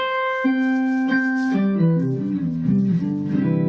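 Electric guitar run through an octave pedal, producing an organ-like tone: single sustained notes with a stacked harmonic shimmer, shifting into a slow melodic line of overlapping tones, no talking.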